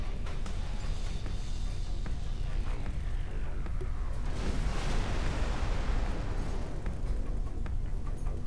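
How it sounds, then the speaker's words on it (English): A space explosion in the game X4 Foundations, a deep rumbling roar with a sweeping rise and fall of debris noise that swells in the middle and lingers at a steady loud level. "Explosion imminent."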